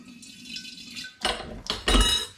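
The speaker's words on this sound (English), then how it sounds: "I'm just going to add a bit of cold tap water into the demijohn." Cold tap water runs into a glass demijohn in a kitchen, a steady splashing flow with two louder gushes and some clinking of glass, no voices.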